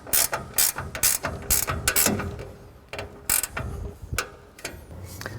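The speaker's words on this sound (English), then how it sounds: "they can be easily accessed with the wrench coming in at a slight angle and securing them down" A ratchet wrench clicks in rapid, close bursts while tightening the bolts on a 2022 P|Flux dust collector during assembly, its pawl ticking loudly in uneven runs with brief pauses.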